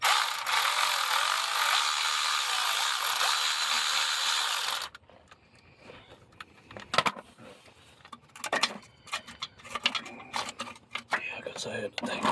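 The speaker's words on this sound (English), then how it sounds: "Electric ratchet wrenches." An electric ratchet wrench removes starter bolts on a Pontiac G6: a steady loud whirring for about five seconds, then scattered ratcheting clicks and metallic tool clatter with people talking quietly nearby.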